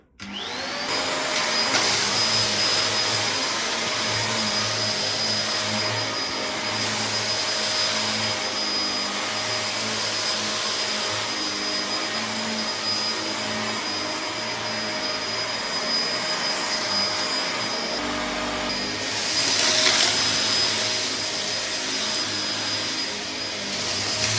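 A Kenmore Progressive DU2001 dual-motor vacuum cleaner runs at a steady, loud, high-pitched whine. A brief shift in tone comes near the end as it keeps cleaning, and no one speaks.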